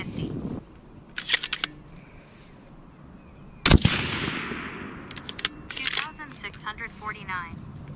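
A single sharp rifle shot from an Impact 737 custom rifle in 6.5 Creedmoor, firing a Berger hybrid target bullet over 40.0 grains of H4350. One loud crack stands alone, with faint clicks and handling noise before and after it.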